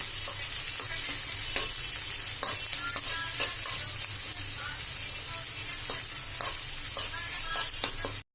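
Chopped onions fry in hot oil for a rasa palya, giving a steady, close, continuous sizzle with occasional soft stirring scrapes and no voices.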